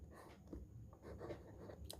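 A pen scratches across paper while a maths proof is written out for a class 10 NCERT exercise, soft continuous strokes close by and fairly faint, with no voices.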